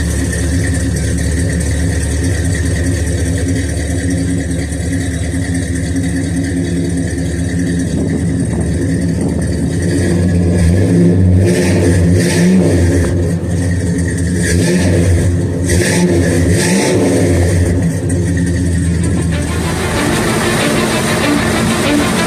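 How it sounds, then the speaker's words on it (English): A 1966 Chrysler New Yorker with a 440 V8 rumbles and revs steadily and loudly throughout, the engine sound blending with music playing alongside. "This is my 66 Chrysler New Yorker 440."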